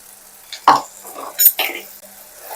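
A spoon stirs spices, coriander powder and turmeric, into lentil rasam in a pot, giving a few short scraping and clinking strokes against the metal with quiet gaps between.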